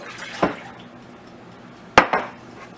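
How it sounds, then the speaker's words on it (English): Clinks of an egg and milk going into a bowl: one sharp knock near the start, then a louder double clatter toward the end, dish-and-cutlery knocks over a quiet background. "Put our egg and milk in 1 bowl."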